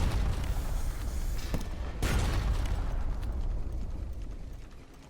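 Ship cannons fire in the video game Sunless Sea during combat with a rat-crewed barge, heavy booming blasts with rumbling low-end roar, one strong hit near the start and another about two seconds in, fading after five seconds.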